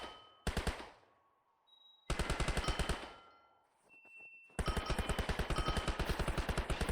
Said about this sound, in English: I think they have, like, kind of a blunderbuss type thing that they're shooting at me.